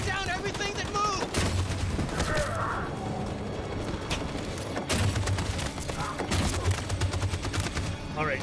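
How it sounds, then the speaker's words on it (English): Machine gun fire in Detroit: Become Human, dense rapid bursts of gunfire and battle noise running throughout, with characters' voices speaking over the shooting. "That machine gun is taking down everything that moves."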